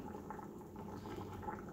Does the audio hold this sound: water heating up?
yes